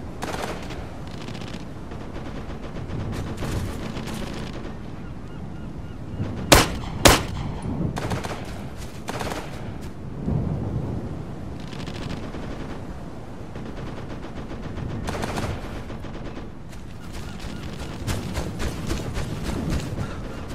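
Gunfire and machine-gun bursts from the military shooter game Operation Flashpoint: Dragon Rising on Xbox One, a steady rattle of shots near and far with a few loud sharp cracks, continuing throughout with no talk.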